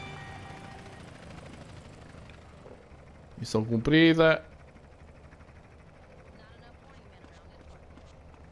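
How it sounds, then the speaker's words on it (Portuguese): In GTA San Andreas Definitive Edition, a helicopter keeps up a low, steady rotor drone nearby. Someone briefly speaks over it midway, and game music hangs faintly in the background. "E já anda aí o tal helicóptero que eu estou a ouvi-lo"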